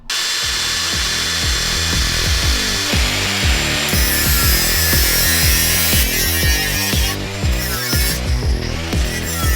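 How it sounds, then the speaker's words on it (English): A power drill bores out spot welds on a Toyota Landcruiser's steel body in a steady, loud, close grinding run with rhythmic pulsing bursts, no voices. "I'm going to drill them and then I'll just plug them up with weld"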